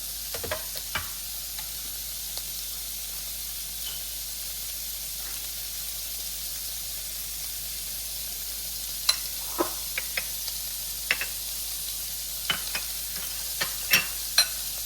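Sausages sizzle and brown in a hot pan with steady frying hiss throughout, broken by occasional sharp pops and spits, growing busier toward the end, with no talking.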